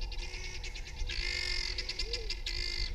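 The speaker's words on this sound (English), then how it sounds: "This attention-seeking loudmouth is the helmeted guinea fowl." Helmeted guinea fowl in the Kilimanjaro and Arusha area of Tanzania call with harsh, rapid, repeated chattering bursts, fairly faint over a low background rumble.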